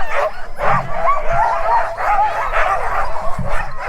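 Sled dogs in snowy Svalbard bark, yip and whimper excitedly before a ride, several overlapping voices rising and falling in a restless, continuous chorus close by.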